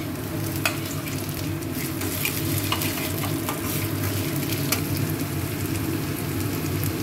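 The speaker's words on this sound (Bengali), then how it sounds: "এবার আমি পেঁয়াজটা দিয়ে দেবো।" Onion frying and being stirred in a pan after garlic, for a homemade pizza sauce: steady loud sizzle with scraping stir strokes throughout, close and alone with no talk.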